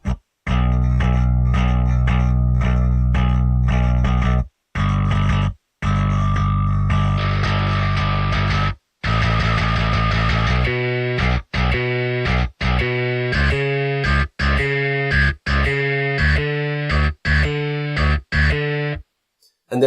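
Gritty, distorted bass guitar plays a driving riff of repeated notes with brief pauses, loud and close throughout.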